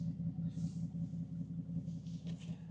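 A 2016 Mercedes-AMG GT S V8 rumbling at a low, throbbing idle close by, with a pulsing burble and a few brief hissing bursts on top.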